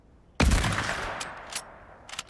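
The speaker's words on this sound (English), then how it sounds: "we gotta shoot it with a gun" A burst of gunfire in the video game Fortnite Creative, a sharp loud onset followed by a decaying rattle with a few faint later pops, no talk.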